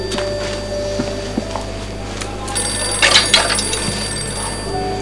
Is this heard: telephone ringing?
yes